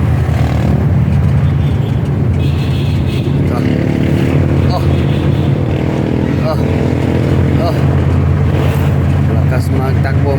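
A motorcycle engine runs fast on a road in Iligan, a steady loud drone with traffic noise throughout, and someone talks over it.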